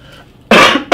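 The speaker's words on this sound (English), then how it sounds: "I act like I'm coughing in my arm" A person fakes a cough into an arm to hide vaping: two loud, close, abrupt coughs, the first longer and the second a short burst, after a quiet moment.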